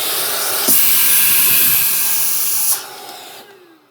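A heater blows hot air onto a plastic sheet in a handmade DIY dental vacuum former for miniatures, giving a loud, steady close hiss that cuts off sharply near the end and fades into quiet.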